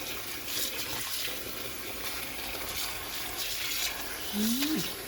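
Salted pickled vegetables being rinsed under running water, a steady close splashing and gushing wash throughout, with a brief voice or squeak near the end.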